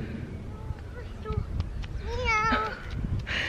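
A cat meows a few times outdoors on a street with parked cars, short rising and falling cries heard near over background chatter and street noise.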